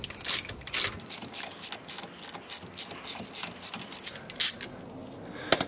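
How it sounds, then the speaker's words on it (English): A ratchet wrench clicks in quick repeated bursts while loosening the bottom bolt of a brake caliper on a Ford Taurus, the pawl chattering close and crisp with short pauses between strokes. "If it doesn't, then you just have to unscrew the bottom bolt"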